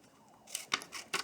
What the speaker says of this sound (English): And then cut off the excess material again.